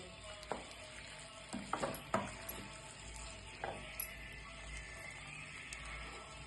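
Already-cooked pepper chicken mixed in a pan over low heat, soft sizzling under scattered sharp clicks and scrapes of a spoon against the metal, fairly quiet and close, with no talking.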